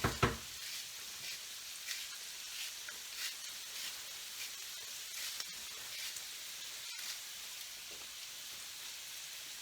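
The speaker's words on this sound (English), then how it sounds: "We get a nice crust on the sausage, which is good." Sausage fries in a pan, giving a steady close hiss and crackle of sizzling fat with small pops throughout, starting with a brief louder clatter.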